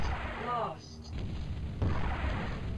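Mortar rounds firing and bursting in the Battlezone video game, a low booming thump followed by a rumbling blast, heard close and loud with a voice talking over the start.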